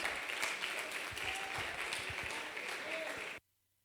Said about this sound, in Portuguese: vamos receber com aplauso o pastor Anderson Cardoso